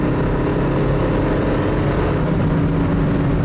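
A 1970 Oldsmobile 442 pulls hard under acceleration, a steady loud engine drone with low rumble heard from inside the car, no speech.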